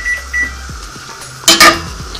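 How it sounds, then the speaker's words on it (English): A kitchen timer gives two short electronic beeps, followed by a clatter of kitchen dishes and pans, close and fairly loud in a quiet kitchen while potatoes and Swiss chard are being cooked. "would help if you turn off the timer."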